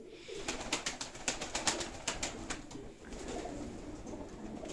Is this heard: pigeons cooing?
yes